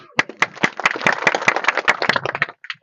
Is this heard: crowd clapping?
yes